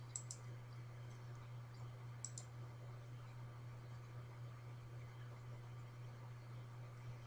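A computer mouse clicks twice on a Solve button in spreadsheet software, two quick faint clicks a couple of seconds apart over a steady low electrical hum.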